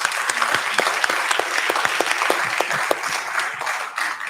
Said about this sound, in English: we would like to give our candidates here a good round of applause